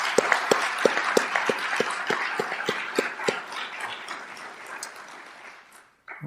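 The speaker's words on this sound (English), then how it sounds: "Let's give one more quick round of applause here." Round of audience applause at a Fargo police promotions ceremony, a steady broadband clatter of clapping with rhythmic low taps running through the first half, fading out near the end.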